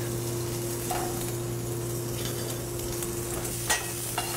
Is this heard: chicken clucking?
no